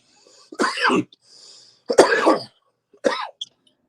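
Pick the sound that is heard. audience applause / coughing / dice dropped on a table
coughing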